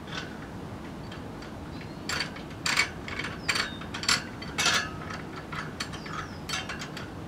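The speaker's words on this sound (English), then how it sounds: "now we use the TMT mounting tool, also known in the US as the Baja no pinch tool, to pry on the bead" A TMT mounting tool pries a tire bead onto a rim, making a few scattered metallic clicks and ratcheting scrapes at close range, with quiet pauses between them.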